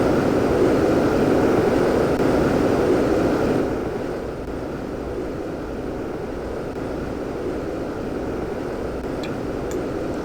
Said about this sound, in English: this is actually like the slowest jet car in history